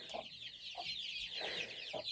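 A hen clucks close by in a series of short, rhythmic clucks, with no other sound around them.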